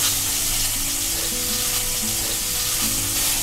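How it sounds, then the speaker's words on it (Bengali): Cauliflower and potatoes fry in a generous amount of oil, giving a loud, steady sizzle and crackle that runs unbroken throughout, with no voices. "এবার ফুলকপি আর আলুগুলোকে ভেজে নেব"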